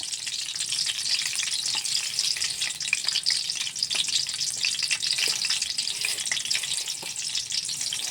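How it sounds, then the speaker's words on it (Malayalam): Mustard seeds and garlic fry in hot oil for a breakfast dish, giving an even, continuous sizzle with small crackles throughout and no talking. "ഇവിടെ ഞാൻ വെളുത്തുള്ളി ഇട്ടാണ് കടുക് വറുക്കുന്നത്"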